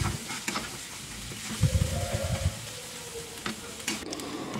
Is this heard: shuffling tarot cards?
no